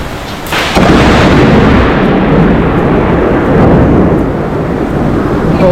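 Heavy storm rumble from a severe overnight thunderstorm, a loud sustained roar of thunder building after the first second and holding steady throughout, with no speech.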